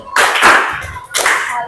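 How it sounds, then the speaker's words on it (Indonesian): Classroom children clap in a short rhythmic salute, two loud bursts of hand claps close to the microphone. "Bisa tepuk salut? Tepuk salut."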